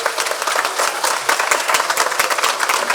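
Festival audience applauding at a folk event, dense sustained clapping from many hands in a hall, loud and even for the full three seconds with no one speaking over it.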